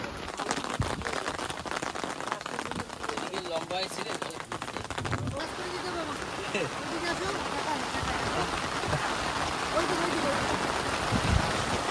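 Rain falls steadily on surfaces in a village during the monsoon, a dense continuous hiss with scattered drops, while people talk over it.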